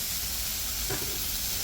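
Pork spare ribs with swine & dine rub sizzle on the hot side of a grill, a continuous close, loud hiss with a brief flare near the middle.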